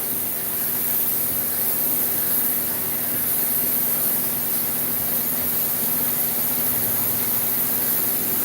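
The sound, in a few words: spray gun spraying paint layer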